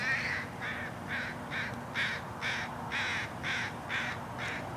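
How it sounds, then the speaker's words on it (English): Crows caw repeatedly while harassing an eagle outdoors, about ten harsh calls in a steady, evenly spaced series, moderately near and clear over faint background noise. "the eagle being jumped on by these crows"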